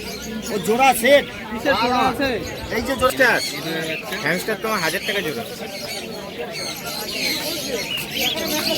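Pigeons coo and call among pigeon pairs for sale at the busy Birnagar weekly bird market, their soft warbling mixed into near chatter and a babble of people talking throughout.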